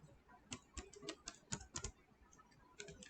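Computer keyboard typed on while configuring a Cisco router interface, a quick run of crisp, close key clicks in an uneven rhythm, fairly quiet and without talking.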